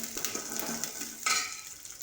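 Green chillies sauté in a pan for tomato thokku, a steady hissing sizzle broken by stirring scrapes. Near the end a louder burst of frying flares up. No one talks.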